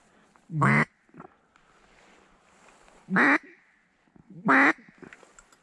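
Three loud, nasal quacks from flying ducks at a New Mexico duck hunt ring out one at a time with long pauses between, over a quiet outdoor background.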